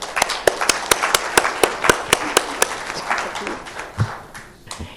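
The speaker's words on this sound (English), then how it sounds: "I propose a big round of applause for Sofia, Diana, and Petru." A panel audience gives a round of sharp, evenly spaced claps that thin out toward the end, loud and close.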